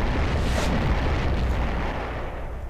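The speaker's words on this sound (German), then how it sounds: "Bam. Explosion in Lila." A loud, rumbling video game explosion roars and slowly fades, a broad booming blast with no voices.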